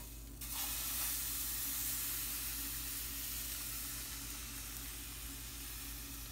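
Crepe batter hits a hot pan with a sudden bright sizzle that settles into a steady, close frying hiss, with no talking.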